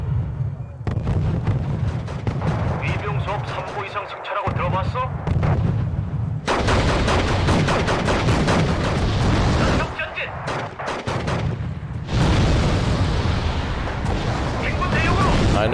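Heavy artillery barrages boom repeatedly in Wargame: Red Dragon, a real-time strategy battle on a mountainside, with dense overlapping blasts and rumbling impacts filling most of the span and a voice talking over the bombardment.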